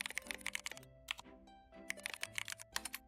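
Rapid clicking keystrokes on a computer keyboard, close and crisp, arriving in quick bursts separated by short pauses, with no talking.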